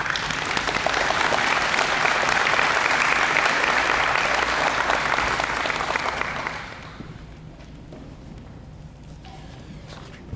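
Audience applause for board members at a school ribbon cutting ceremony, a loud sustained burst of clapping from a crowd that fades out after about six seconds into quieter room noise.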